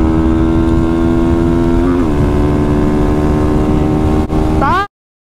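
A Honda Fan 160 motorcycle with a modified engine, no brakes and a Mini Fortuna exhaust roars loudly and steadily close by, its pitch dipping briefly before a final rising rev, then cutting off abruptly.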